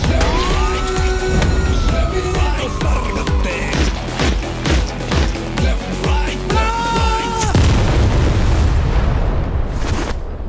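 Siren wails and deep booms rise and fall against a dense, loud music bed in a trailer for the Malayalam action-comedy film Aadu 3, with sweeping tones and heavy hits that cut off near the end.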